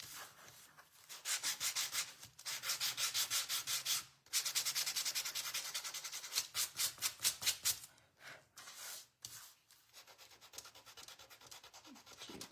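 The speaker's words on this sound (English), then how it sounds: "Just sand it down just a smidge." A wooden beach hutch being hand sanded, with steady rhythmic rubbing strokes in repeated bursts and short pauses between, close and fairly quiet, with no talking.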